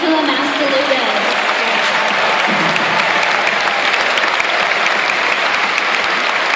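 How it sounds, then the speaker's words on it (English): A large audience applauds a nutrition scientist being thanked at a presentation, a dense, steady wash of clapping that holds for several seconds, loud and close, with a voice briefly audible at the start. "How about a big round of applause for Dr. Angela Mastalugas?"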